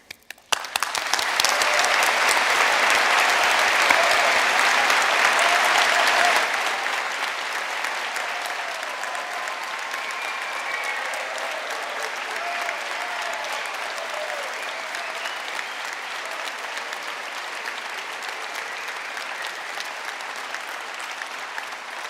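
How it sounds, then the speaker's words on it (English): Graduation ceremony audience at a university hall gives a loud, sustained round of applause, densest for the first six seconds, then settling into steadier, slightly softer clapping that continues to the end. "I am delighted to hear that rapturous round of applause"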